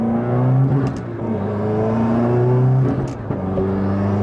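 A Subaru WRX on a valet map pulls hard under about ten pounds of boost, its engine note rising steadily and loudly from inside the car, with brief shift pauses before climbing again.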